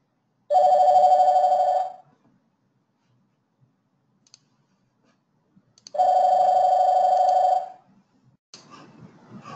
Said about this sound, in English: interrupted with a phone call